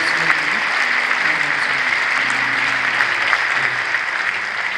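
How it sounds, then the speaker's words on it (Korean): Steady, dense applause from a congregation at a 2021 Korean Easter union worship service at a church, honoring the event's chairman pastor, loud and continuous throughout with a faint hum beneath. "대회장이신 소강선 목사님 위해서 우리 한번 박수를 주시면 어떠실까요?"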